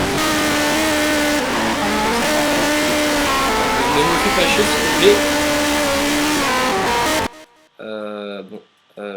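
Race car engine in the video game Project Cars, droning loudly with wavering revs for about seven seconds under a voice speaking French, then cutting out into near silence broken by brief menu-like tones.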